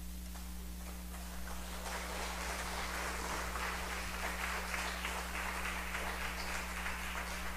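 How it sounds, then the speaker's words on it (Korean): Church congregation clapping to welcome a missionary speaker to the front, the applause swelling after a quiet start and holding steady over a constant low hum. "나오실 때 큰 축복의 박수 부탁드리겠습니다"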